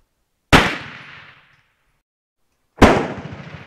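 Two loud, sharp 9mm Luger shots from a Star BM pistol sound about two seconds apart, each a close crack followed by a short decaying echo, with nothing else between them.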